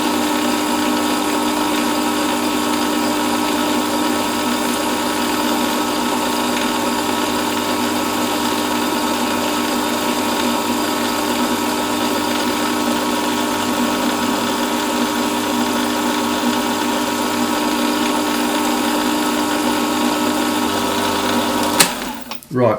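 A lathe runs with a steady, continuous mechanical whir while a French clock screw is polished, the tone loud and unchanging until a sharp click near the end as it stops.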